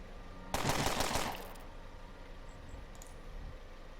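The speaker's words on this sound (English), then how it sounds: "just let me shoot the bastards with this." A burst of gunfire from a gun in the video game Underrail crackles for about a second, loud and rapid, then fades into low background noise with a few faint clicks.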